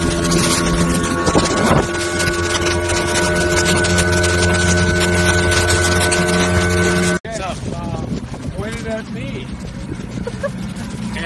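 A small 1983 Evinrude 15hp outboard on a 1983 Sea Nymph 14R boat drones steadily under wind buffeting on Silver Lake, Michigan, then the engine note shifts and climbs as the heavily loaded boat picks up speed; voices faintly present.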